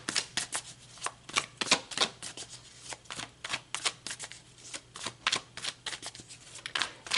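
Tarot cards being shuffled by hand in repeated riffling bursts, close and crisp, with a steady rhythm throughout and no talking.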